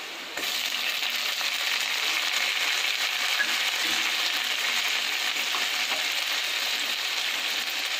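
Tomatoes tipped into a pan of sautéed onions for a paneer macaroni pasta sizzle and fry steadily, a dense, even hiss that stays loud and close with no talking.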